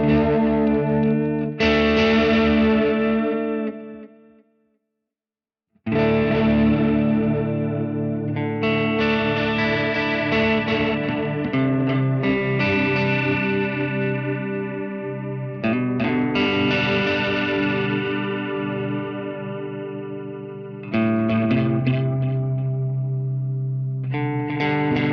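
Modulated delay on a Fractal Audio Axe FX III with the LFO phase at zero, heard on sustained guitar chords and picked phrases that swirl and echo, with a brief silent gap early on.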